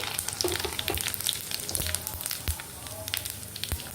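Dried red chillies, mustard seeds and cumin sizzling in hot oil for ginger chutney, a dense crackling fry with scattered sharp pops and a few spoon scrapes, close and steady, with no talking.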